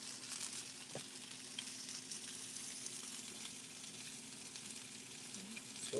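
Eggplant frying on a griddle makes a quiet, continuous hissing sizzle with faint crackles and occasional small pops, steady from start to finish.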